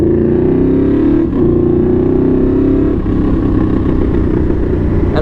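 Yamaha V-Max motorcycle engine running loud and steady at close range, a deep sustained growl with a brief dip near the start and slight throttle shifts throughout, no talk over it.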